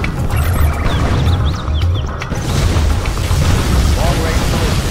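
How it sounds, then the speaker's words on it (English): Particle cannon firing in Command & Conquer Generals Zero Hour, a loud booming blast with a rumbling low end that continues through the clip, mixed with other battle sounds and short game voice callouts. "Particle cannon activated."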